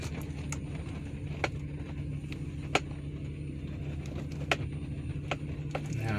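A vehicle rolls slowly over a bumpy sandy clay driveway, a steady low rumble with occasional sharp knocks and clicks from the rough surface, fairly quiet overall.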